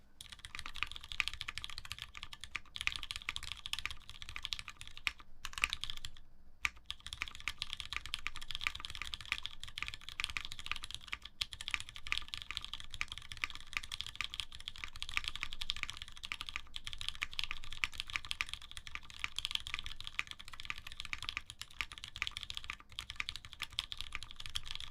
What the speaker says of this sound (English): it sounds like a keyboard, a little hollow